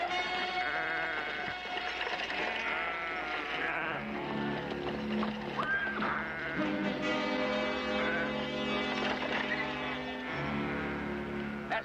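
Several sheep bleat repeatedly over a constant low engine drone, their wavering cries overlapping at moderate distance throughout.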